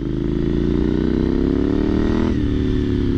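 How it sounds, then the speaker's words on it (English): A Triumph Scrambler 900 motorcycle engine revs loudly and steadily up close while riding, pitch climbing then dropping sharply as it shifts gear, a continuous throaty roar throughout. "I always loved how this bike sounded."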